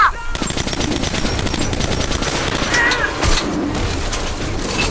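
Rapid machine-gun fire rattles through a battle in the video game Metro Last Light, loud and continuous from start to finish, with dense overlapping shots and no pauses.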